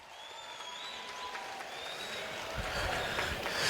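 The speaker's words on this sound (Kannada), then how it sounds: "ಟಾಪರ್ಸ್ಗೆ ನಿಮ್ಮ ಜೋರು ಚಪ್ಪಾಳೆ" An audience applauds gold-medal toppers at a school event, the clapping starting faint beneath a voice and a sustained tone, then swelling louder toward the end.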